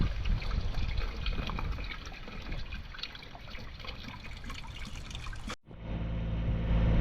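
Water pours steadily from a garden hose outdoors in a backyard chicken-keeping setting, a continuous splashing rush that cuts off abruptly near the end, then a fainter running flow resumes.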